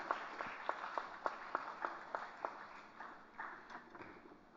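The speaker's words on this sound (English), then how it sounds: "a big round of applause for Sumit Mittal" Sparse, distinct claps ring out at an award felicitation, a handful of sharp hand strikes spaced apart and fairly faint, thinning toward the end.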